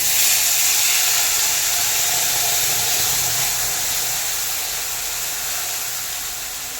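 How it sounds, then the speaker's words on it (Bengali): A paste of raw tomato and green chilli dropped into hot oil in a kadhai, giving a loud, dense, steady hiss of sizzling that eases off slightly over several seconds, with no talk. "আগে থেকে ব্লেন্ড করে রাখা সেই কাঁচা টমেটো আর কাঁচা লঙ্কার পেস্ট কড়াতে দিয়ে দিলাম"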